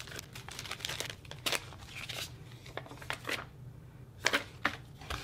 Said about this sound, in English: Piece of paper.